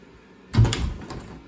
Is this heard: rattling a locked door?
yes